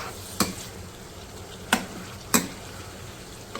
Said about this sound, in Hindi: अब हम इसको हल्का सा भून लेंगे।